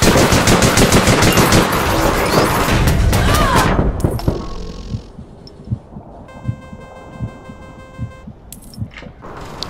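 Rapid automatic gunfire in the online shooter APB Reloaded, a loud dense burst for about four seconds, followed by scattered single shots and game effects at lower level.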